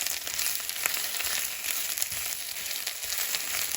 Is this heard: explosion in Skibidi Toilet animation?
no